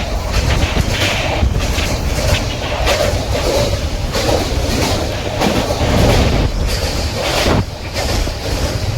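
A passenger train runs near Dakshineswar in Kolkata, heading over the Ganges toward the Howrah main line, with a loud continuous rumble and rhythmic wheel clatter heard from on board, occasionally swelling and easing.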